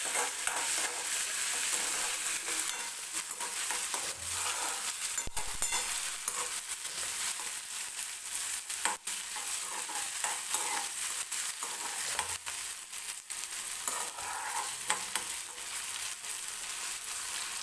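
Chopped tomato roasts in hot oil in a pan while cooking a cauliflower and green pea bhaji, giving a continuous dense sizzle with occasional stirring scrapes and no voices.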